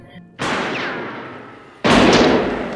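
Two loud, sharp gunshots ring out in a film soundtrack, each followed by a long echoing decay.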